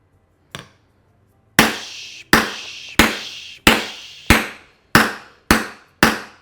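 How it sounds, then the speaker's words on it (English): A small 8-ounce pink hammer strikes a shisha in eight sharp, ringing blows: one light tap, then seven loud, evenly spaced hits, each decaying quickly into silence. "I was just hammering on this thing, yes, it's a pink hammer"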